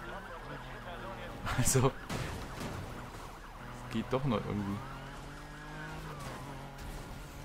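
Police car sirens in a Need for Speed Heat pursuit: wailing sirens sweep up and down under engine noise, with brief loud bursts of crashing or skidding. Someone talks over them.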